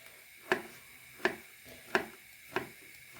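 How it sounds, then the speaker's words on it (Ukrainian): Fresh mushrooms are sliced with a knife on a board in five evenly spaced, crisp cuts, each a sharp close tap in an otherwise quiet kitchen. "Маю такі гарні грибочки, зараз я їх поріжу."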